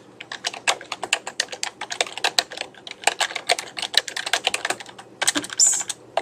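Fingers type steadily on a computer keyboard, a close run of quick, uneven key clicks with brief pauses, entering text into a PowerPoint footer, with no talking.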